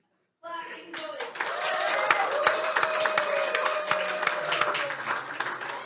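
Audience bursts into sustained applause for a vote, many hands clapping together at close range, with scattered cheers and voices mixed in.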